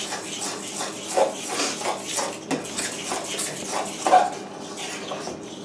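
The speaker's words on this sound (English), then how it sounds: "Mix that up a little bit." Cake batter with vanilla stirred in a bowl, a utensil scraping and knocking against the sides in a steady, close rhythm with no talk.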